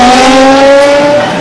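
A Formula One race car engine screams at very high revs on the Monza circuit, loud and close, holding a sharp whine that drops slightly in pitch as the car passes.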